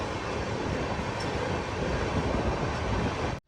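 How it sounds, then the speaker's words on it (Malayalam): The Bhuj Dadar Express at Bhuj station, a steady broad rumble of rolling rail cars heard from close by, continuous and fairly loud before cutting off abruptly. "ഭുജ് ദാദർ എക്സ്പ്രസ് ആണ് ആ തൊട്ട് മുന്നിലായി കാണുന്നത്"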